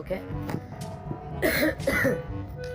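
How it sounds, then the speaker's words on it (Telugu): A person coughs a couple of times in quick, harsh bursts, close by, with talking before and around them. "దగ్గు వస్తుంది"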